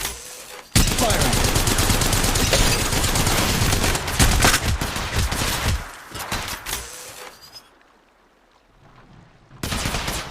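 A loud, near fusillade of weapon fire in the Apex Legends video game, dense rapid shots for several seconds, then fading to near silence before another burst starts at the end.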